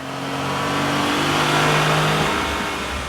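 A tuned Ford EcoBoost engine revs hard on a dyno, rising in a sustained loud climb with steady harmonic tones, peaking around the middle, then easing slightly toward the end, with no voices over it.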